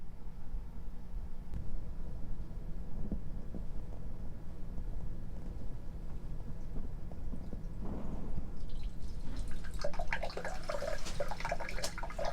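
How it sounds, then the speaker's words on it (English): Water poured into an air exchanger's drain line runs down through the pipe, a steady low wash that picks up bursts of brighter splashing and trickling toward the end. "we want to just fill it and make sure that we get good drainage through the pipe"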